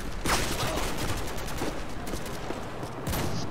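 Rapid pistol gunfire in Call of Duty: Modern Warfare 2, several sharp close shots cracking over a steady background of in-game battle noise, with a final shot near the end.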